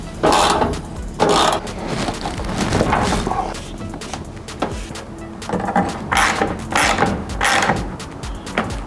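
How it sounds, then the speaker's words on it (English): A screw is driven into a bumper clip while a body kit is fitted to a Ford Falcon ute, with repeated bursts of ratcheting mechanical whirring and clicks over a busy background. "So I'll put the screw in first."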